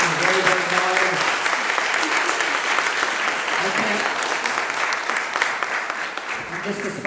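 Steady, loud audience applause fills the hall at a community show honoring the board, sustained throughout with some crowd noise beneath it.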